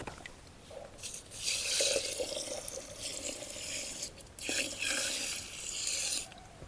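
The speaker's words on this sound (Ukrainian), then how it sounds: "Водичку візьму з водойми на це діло." Pond water poured over hemp seeds at a waterside spot, giving soft splashing gushes in about three long bursts with brief pauses between, fairly close and alone.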